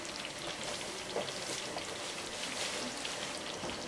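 Mutton malai with cream sizzles and fries in a pan over a high flame, a steady dense crackling hiss, close and even, with no voices.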